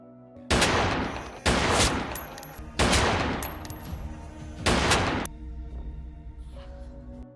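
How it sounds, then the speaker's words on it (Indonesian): Four loud bursts of gunfire from a film action scene, each lasting about a second with short gaps between them. Quieter room ambience and a faint tone follow. "Shankar yang sedang menjaga Dube terus menembaki Babu dan Bihari"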